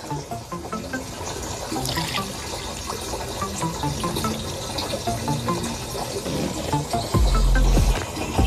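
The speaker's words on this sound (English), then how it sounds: "Water's going in." Tap water runs steadily into a sprayer tank being filled for a crabgrass weedkiller treatment on a lawn, a continuous splashing rush that deepens and grows louder near the end.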